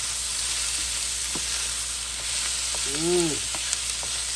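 Peppers and onions sizzle steadily in a hot pan while being stirred, a continuous hiss with occasional scraping taps and a brief voice-like sound near the end.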